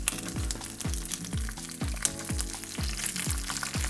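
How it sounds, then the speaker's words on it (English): Garlic hits hot oil in a skillet for spinach in garlic sauce, crackling and sizzling in rhythmic bursts close up, roughly every half second, with no talk. "I'm gonna take my first layer of garlic and put it in"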